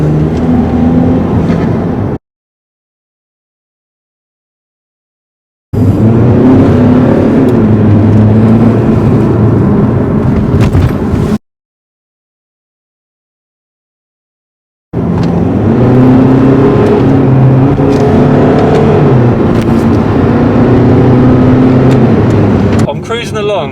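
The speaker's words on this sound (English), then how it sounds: "you can just hear the turbo like spooling" A Skoda Octavia vRS 2.0 TDi fitted with a performance air filter induction kit accelerates in sport mode with its turbo spooling. The engine roars loudly and steadily under people talking inside the car, and the sound cuts out twice.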